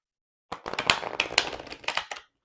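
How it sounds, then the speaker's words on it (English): Oracle cards riffle-shuffled on a tabletop: a close, brisk flurry of crisp flicking and pattering that lasts under two seconds, with a few sharper snaps, and the cards settle at the end. "So I can riffle shuffle even with my small hands"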